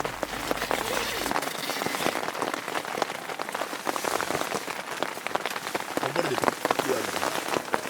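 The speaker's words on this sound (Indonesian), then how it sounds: "Sampai pagi pun hujan tidak berhenti-henti." Steady rain pours on Mount Semeru in East Java, a dense, loud patter of drops hitting surfaces close by, continuous throughout with no voices.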